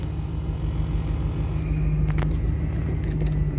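A truck engine idles steadily after starting, a loud, close, continuous low rumble with a constant hum and a few faint clicks near the end.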